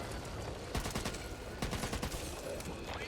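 Gunfire from a weapon in the zombie survival game Back 4 Blood rips out in two rapid bursts of shots, fairly quiet and set against a constant background hiss.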